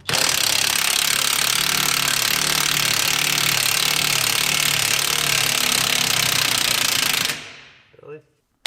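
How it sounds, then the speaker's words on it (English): Continuous harsh metallic hammering on a strut rod assembly under a Mopar car runs for about seven seconds. The rapid blows sound close and loud, then stop abruptly with a short fading knock at the end. "Then hammer this whole assembly back"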